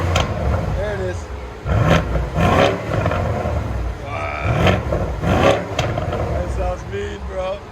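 A 2019 BMW M550i's 4.4-litre V8 with resonator-deleted dual exhaust, set to sport mode, barks through several sharp, close blips in a choppy rhythm, with people talking between and over the revs.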